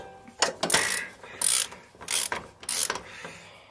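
Ratchet wrench loosening the mounting bolt of a motorcycle shock absorber, giving four close, loud bursts of rapid clicking separated by short pauses, with no talk.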